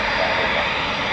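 A Eurofighter Typhoon FGR4 jet at an RAF station gives a brief, loud, continuous engine roar close by.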